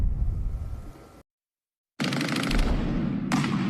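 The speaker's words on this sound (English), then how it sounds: "automatic gunfire echoed the fireworks lighting up the night sky" Automatic rifle fire is shot off a Dallas bridge on New Year's Eve: a loud rapid burst cuts off into a second of silence, then another sustained rattling burst resumes, echoing outdoors.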